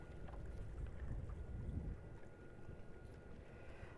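Steady wind rushing over a river during bass fishing from a boat, a low continuous roar that swells in the first half then eases slightly, with no voices.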